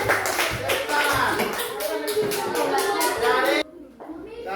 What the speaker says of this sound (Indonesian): tepuk tangan untuk kelompok 2 pemenang ini. Tepuk tangan.